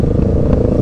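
Kawasaki ER6n motorcycle throttling up, a short burst of close, loud engine rumble with a rough clattering texture.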